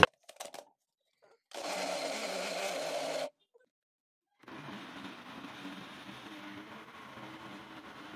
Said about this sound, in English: We're going to add about a cup of water to help the blender.